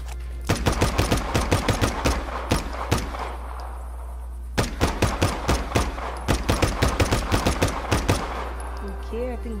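Rapid gunfire from Just Cause 3, with rhythmic bursts of sharp shots over a low steady hum, a pause midway, then another rapid string of shots.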